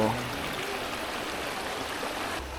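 Natural stream water flowing in a swimmable spot near Chiang Mai, a steady broadband rush and burble, fairly close and continuous.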